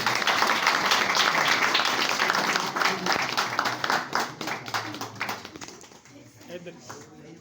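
An audience claps together at a Christmas cake-cutting program, a steady loud round of applause that gradually thins out and fades, with voices talking under it toward the end.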